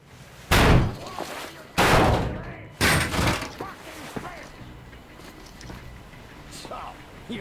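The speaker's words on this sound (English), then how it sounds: "The door's giving." Heavy door in Metro Exodus being forced: three loud, separate slamming impacts about a second apart, followed by quieter clatter and faint voices in the background.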